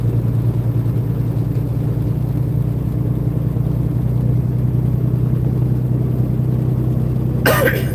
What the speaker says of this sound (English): I'm going up this hill pretty good. I mean, it slowed down a little bit, but this truck pulls it pretty good.